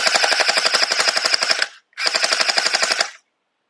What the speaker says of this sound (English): So you see they shoot nicely at that distance, of course.